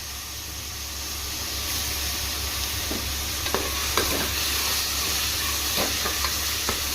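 Ginger garlic paste fries in a pan for a hotel-style mixed vegetable kurma, with coriander and mint stirred in. A steady close sizzle and hiss run throughout, and a spoon scrapes and clicks now and then.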